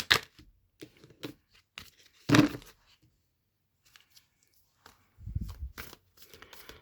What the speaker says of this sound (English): Just give it a quick shuffle.